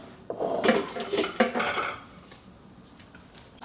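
Warm cooked potatoes tumble back into a metal pan with a few clattering knocks and scrapes in quick succession over about two seconds, close and fairly loud, then the sound settles into quiet.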